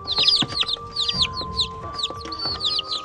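Young chickens in a box chirp and cluck in quick, high, repeated peeps, fairly faint and close, with no talk.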